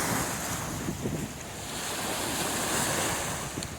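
Swollen river in flood rushing past, a loud, continuous broadband roar of churning water mixed with gusty wind buffeting the microphone, no voices present.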